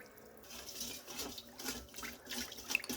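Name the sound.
water being poured for bread dough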